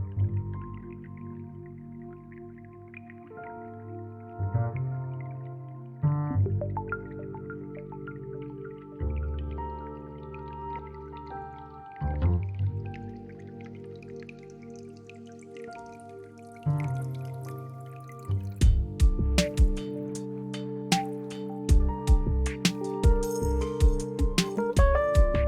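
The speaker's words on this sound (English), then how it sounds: "This is a contact upright, or jazz upright." Contact or jazz upright bass in an electronic production, plucked notes repeating in slow groups over sustained tonal layers, growing busier and brighter with clicky percussive hits toward the end; no talking.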